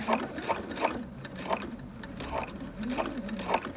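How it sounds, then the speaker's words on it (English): A sewing machine runs in short, steady bursts of rapid stitching through bulky quilt seams, close by, with its motor whirring and clicking rhythmically. "please take it very, very carefully with your sewing machine"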